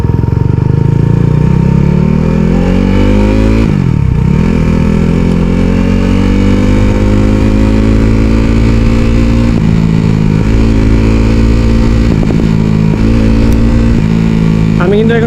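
Motorcycle engine running steadily while the rider slows on engine braking alone in heavy traffic, a continuous mid-pitched drone with shifting revs and a dip near four seconds, loud and close throughout.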